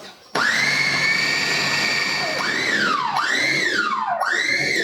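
Food processor blade whirring through crêpe batter in a Breton kitchen, a loud steady motor whine that starts abruptly, then dips and surges in several short pulses.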